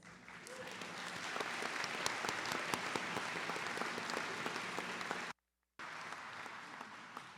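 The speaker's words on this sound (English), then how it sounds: "That's worth a round of applause." Audience applause at a college fall commencement ceremony, a sustained broad wash of clapping from a large crowd that cuts out abruptly near the end, then resumes briefly.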